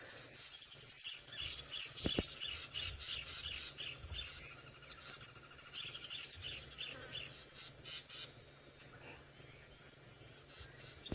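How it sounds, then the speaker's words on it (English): Many birds calling and chirping at once in sunset bush, a dense layered chorus of alarm calls and squirrel chatter scolding a perched eagle, steady and moderately near throughout. "have a listen to all the birds and the squirrels that are shouting at this bird"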